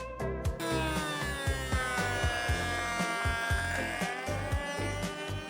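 A jointer runs with a steady high motor whine while a cupped wooden board, cup side down, is fed across the cutter, giving rhythmic low thumps with each pass, close and loud.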